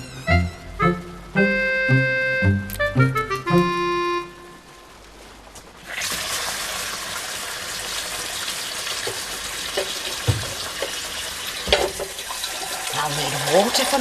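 Water gushes steadily from a tap, starting abruptly after a few seconds of tonal music and continuing as a loud, even rush with small splashes.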